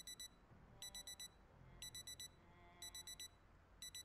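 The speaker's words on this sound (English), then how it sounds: "We definitely have an alarm on one of these watches down here." Wristwatch alarm in the Project Zomboid video game beeping in repeated bursts of four rapid high-pitched electronic beeps, with short pauses between bursts, over a faint low background hum.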